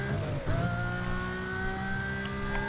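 A race car accelerates in Need for Speed Most Wanted, a steady, loud engine drone with a rising pitch and faint tire squeal. It carries on without a break and no one talks.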